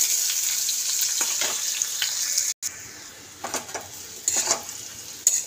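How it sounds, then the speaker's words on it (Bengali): Onions fry in hot oil in a pan, a steady bright sizzle with intermittent stirring scrapes and clinks, close and continuous, briefly cut off once. "পেঁয়াজটা একটু ভাজা ভাজা হোক।"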